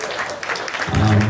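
An audience at a live entertainment event breaks into applause, a brief dense burst of clapping that swells toward the end, with a voice murmuring underneath.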